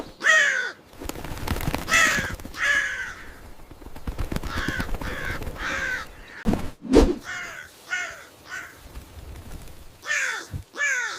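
Crows cawing repeatedly in harsh, loud calls, several birds overlapping in uneven bursts with short gaps, close by and alone without talk.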